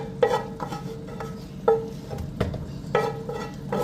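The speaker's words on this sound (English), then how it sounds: "I'm frying some of it because I want that fried taste." Beef for egusi soup fries in a pot, a soft sizzle running underneath while a utensil scrapes and clinks against the pot in irregular taps, fairly quiet and close, with no voices.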